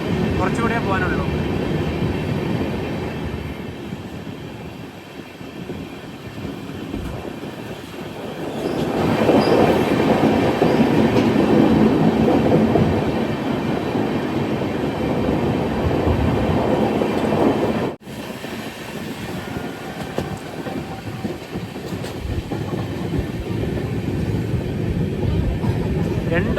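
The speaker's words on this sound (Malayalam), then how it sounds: "ട്രെയിൻ ഏകദേശം ഉധംപൂർ റെയിൽവേ സ്റ്റേഷൻ്റെ അടുത്തേക്ക് എത്താനായി." The Himsagar Express runs on rails near Udhampur in Jammu and Kashmir, a continuous loud rumble and rattle of wheels and carriages with swelling intensity and a brief drop midway.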